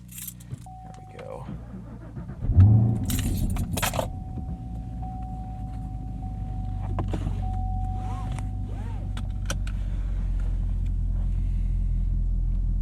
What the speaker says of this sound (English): To start the car, you can't just press the button